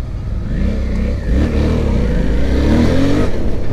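A Suzuki V-Strom 650 XT motorcycle engine revs up and pulls away, its loud, steady roar rising in pitch as it accelerates nearby.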